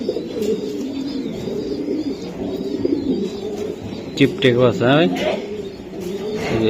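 Racing pigeons coo in soft repeated low calls close by, mixed with a few chirps, while people talk over them.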